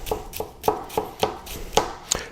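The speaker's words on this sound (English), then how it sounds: "I'm like push chopping, push cutting" Chinese cleaver push-chopping on a cutting board: a steady run of about eight crisp knocks, evenly spaced, each blade strike sharp and close with no talking.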